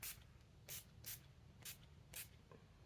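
Five short, crisp spritzes of a homemade makeup setting spray, mostly Kokie Refresh, from a pump bottle held close, spaced irregularly in a quiet room.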